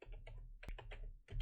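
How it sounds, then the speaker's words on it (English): Quick bursts of key presses on a computer keyboard, a close, crisp series of clicks with one sharper clack partway through, fairly quiet and without speech. "I'm going to type in here reference"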